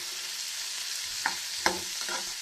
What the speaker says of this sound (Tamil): இந்த வெங்காயம் கொஞ்சம் வதங்கி வரட்டும்.